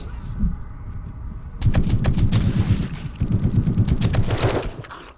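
Rapid gunfire in 7 Days To Die, bursts of close, loud shots in quick succession that start abruptly after a quieter stretch, with a short pause and then another sustained volley.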